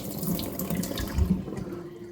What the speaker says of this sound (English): we're going to drain the water